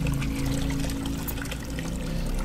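Steady running water pours from faucets in the horror game Amnesia, a continuous, loud gushing and trickling wash that fills the scene with no talk over it.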